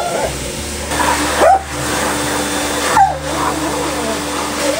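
A dog whines and yips in protest while being blow-dried during grooming, brief vocal cries rising over the steady whir of the dryer.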